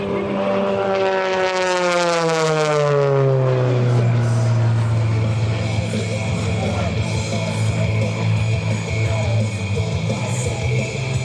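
An aerobatic airplane performs at the 2024 Westmoreland County Airshow, its loud engine note sweeping down sharply in pitch as it passes close, then settling into a steady drone that lingers for several seconds.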